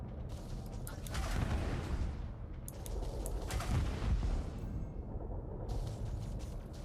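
Video game gunfire pops in quick bursts against a rumbling background of distant booms, with brief gaps between volleys.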